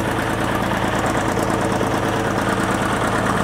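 A TD15 crawler's diesel engine with a bad injector runs steadily, a rough, loud idle with an uneven knocking pulse throughout.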